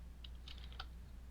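Several soft keystrokes on a computer keyboard during game development work, faint and sparse over a low background hum.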